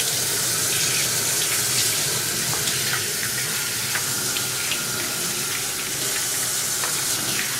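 Hot water runs steadily from a kitchen tap, a loud continuous broadband rush with no talking.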